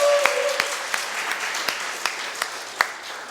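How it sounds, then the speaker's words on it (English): A modest audience at a noon musical theater recital applauds the accompanist, a soft, steady patter of clapping with a few sharper individual claps standing out. "we'll go ahead and give her a clap"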